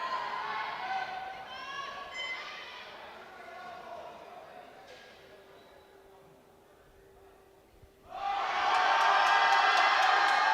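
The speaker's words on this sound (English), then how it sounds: "a lifter brought through and alive by the roars of the crowd" A crowd at the European Open Classic Powerlifting Championships, men's 83 kg class, roars and cheers for a lifter. Commentary runs first, then the loud, sustained cheering bursts in near the end.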